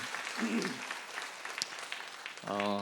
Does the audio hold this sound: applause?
yes